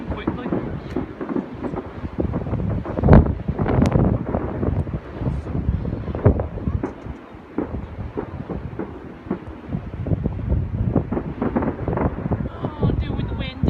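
Strong outdoor wind batters the microphone in loud rumbling gusts that swell and ease, continuous across the stretch, with a voice talking beneath it.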